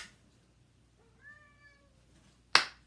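A voice imitates a cat's meow once, softly and close, followed by a sharp click.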